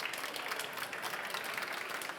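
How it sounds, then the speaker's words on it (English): A conference audience at a VivaTech session gives a short burst of fairly faint, distant-sounding applause that stays even for about two seconds. "A great applause to you."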